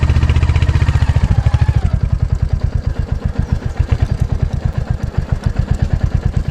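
A motorcycle engine thumps loudly and close on a hill village road, its rapid, even firing pulses holding steady for several seconds with no voices.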